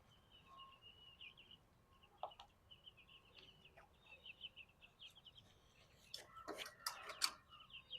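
Soft, scattered clucks from chickens outdoors, gathered around sprouted lentil feed set by their water, faint and intermittent at first, then a brief cluster of louder, sharper calls near the end.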